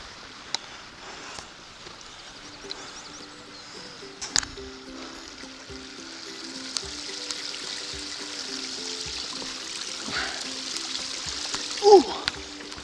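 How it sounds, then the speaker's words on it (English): A small mountain stream in Cwm Llafar, Wales, trickles and babbles steadily nearby, with a few scattered knocks and a short bright chirp near the end. "These little streams are opening up around here now"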